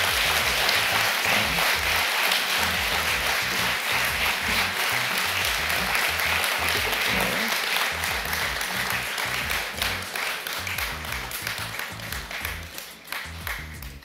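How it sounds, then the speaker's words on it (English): Sustained applause from an audience at a 2015 board inauguration evening, greeting the new Board of Directors of Vision on Mission; dense, steady clapping that holds for most of the stretch before thinning and tapering off near the end. "Please give them a round of applause."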